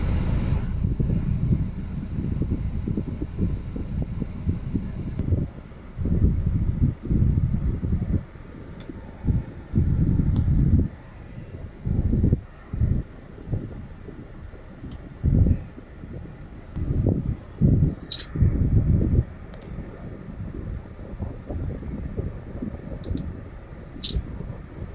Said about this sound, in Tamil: சுற்றி நல்லா காற்றடிச்சிட்ருக்கு.